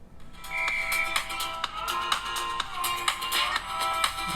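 A Redmi Note 12 phone speaker pumps out music at maximum volume, bright and busy with steady rhythmic hits, loud and close for a few seconds without any voice.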